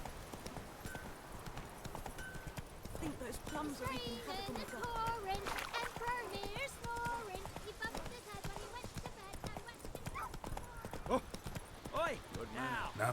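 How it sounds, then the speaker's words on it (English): Hooves of the horse Roach clip-clop at a steady gallop in The Witcher 3 video game, heard under game dialogue and music with several voices talking throughout. "Not so fast, Roach."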